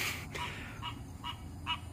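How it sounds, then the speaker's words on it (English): Outdoors, a frog calls over and over, giving short honking croaks about every half second, clear and fairly close above a low background hum. "I don't know what frog that is, but it'd be nice for it to be quiet."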